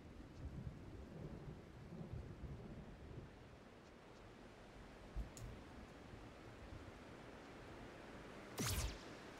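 Steady rain and rumbling thunder from a lightning storm in the video game Tunic, with a low rolling roar early on and a sharp, loud crack near the end.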